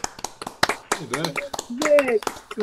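Scattered claps and cheers rise from an audience at an open mic night while a host's voice calls out over the patchy, close applause.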